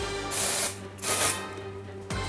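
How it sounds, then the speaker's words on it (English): Sexy Hair Concepts spray clay sprayed through hair during a haircut, three short hissing bursts from an aerosol can with brief pauses, close to the mic. "You just spray it through the hair and it acts like a dry wax."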